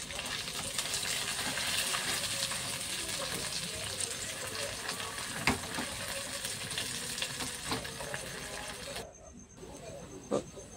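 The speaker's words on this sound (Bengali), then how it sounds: "মেখে রাখা আলুটাকে দিয়ে দিয়েছি, দিয়ে একটু লাল লাল হতে হবে, ভাজবো" Mashed potato fries with chili in hot oil in a pan for aloo paratha filling, a loud steady sizzle with occasional stirring scrapes and knocks, close throughout.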